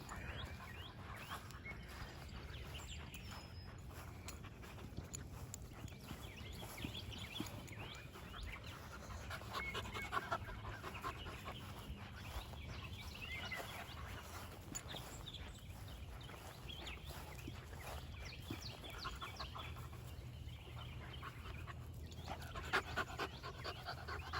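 A puppy pants in quick, steady breaths close by, with soft rustling of movement through grass throughout.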